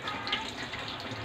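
Tap water runs steadily while tilapia is rinsed, a continuous close splashing stream with no break.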